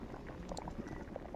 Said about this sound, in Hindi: जहाँ पर है भात उबल रहा है